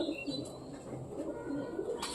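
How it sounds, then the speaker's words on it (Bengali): Domestic pigeon cooing softly close by, low repeated throaty coos over quiet background with a brief rustle at the end. "এটা আমাদের বাড়ির পায়রা"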